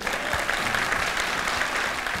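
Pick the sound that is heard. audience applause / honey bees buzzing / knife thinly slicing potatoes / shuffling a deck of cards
audience applause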